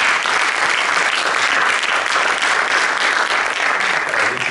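An audience at a talk-and-panel event applauds, a dense, loud and even burst of clapping that holds steady throughout.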